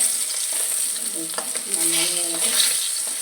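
Pointed gourd (potol) frying in oil, a steady bright hiss of sizzling throughout with a few faint stirring scrapes in the middle.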